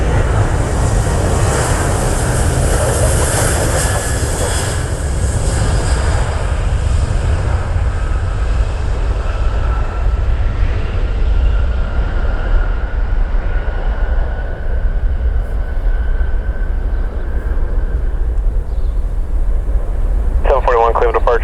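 An airliner lands at Cleveland airport, its loud broadband engine roar filling the air close by and slowly fading, with faint radio chatter mixed in.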